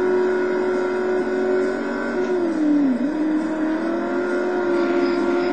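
A race car engine in the Total Immersion Racing game drones loud and steady at high revs, dipping briefly as the pitch drops before climbing again.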